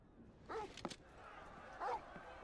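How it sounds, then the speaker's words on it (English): Torgal, a dog companion in a Final Fantasy video game, gives two short barks in quick succession, quiet and slightly distant, over a faint game background. "Torgal's barking."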